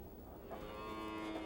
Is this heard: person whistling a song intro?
no